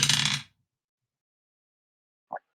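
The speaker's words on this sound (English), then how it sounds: "Was that a dice I heard from?" Dice tossed onto a table during a tabletop role-playing session: an initial burst of rattling and clatter for about half a second, then silence, then a single brief faint tap near the end.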